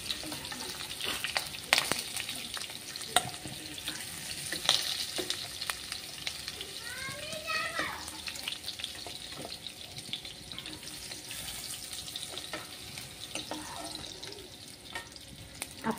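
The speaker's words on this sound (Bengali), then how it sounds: "এবারে আলুগুলো আমার ভাজা হয়ে গেছে মোটামুটি, তো এবারে আলুগুলো আমি তুলে নিচ্ছি।" Potatoes frying in oil for dim kalia, a soft continuous sizzle in the pan broken by scattered clicks and scraping clatter as the pieces are lifted out, fairly quiet overall.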